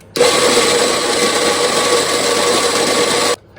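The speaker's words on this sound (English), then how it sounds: "I like to use a double shot, and we'll grind that up." Electric coffee grinder grinding beans for a double shot, a loud steady whirring buzz that starts abruptly, holds for about three seconds, and stops cleanly.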